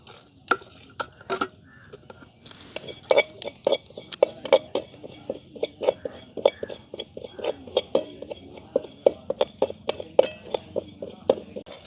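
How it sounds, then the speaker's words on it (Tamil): Fennel seeds dry-roast in a pan over a moderate flame, a spatula scraping and clinking against the metal in a brisk, irregular rhythm of sharp ticks and rattles, close and fairly loud. "முதல் நாங்கள் பெருஞ்சீரகத்தை போட்டு வறுப்போம்"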